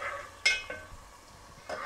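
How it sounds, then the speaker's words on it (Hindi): Khoya roasting over a low flame as it is stirred for a sweet rice dish: soft scraping strokes with a couple of sharper spoon-on-pan clicks above a faint sizzle, close and quiet, with no talking. "खोए को हमने हल्की आंच पे भूनना है जिससे ये तकरीबन हल्का सा ब्राउन हो जाए।"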